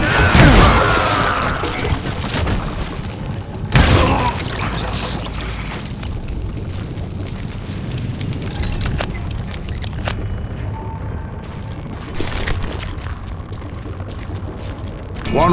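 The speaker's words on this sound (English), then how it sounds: "All it takes is one tiny spark, and boom." Explosion of a mine in the Western shooter Call of Juarez Gunslinger, a deep booming blast near the start with a second burst about four seconds later, followed by rumbling debris and clatter under steady game ambience.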